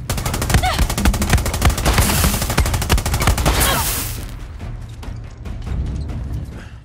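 Gunfire in Far Cry 6, with loud continuous rapid automatic shots close by that thin out into scattered, more distant bursts.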